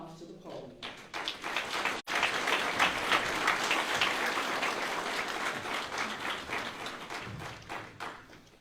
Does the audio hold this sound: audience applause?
yes